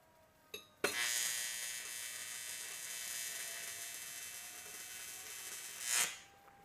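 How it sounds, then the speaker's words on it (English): A stick welder (SMAW) lays a bead over slag, producing a steady close crackling hiss that starts abruptly after a brief strike and cuts off about five seconds later. "Note that I'm welding over slag,"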